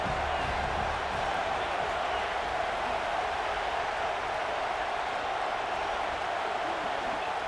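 A stadium crowd in the EA Sports College Football 26 video game sends up a dense, steady roar of cheering and chatter. The noise stays loud and unbroken throughout, with no distinct voice standing out.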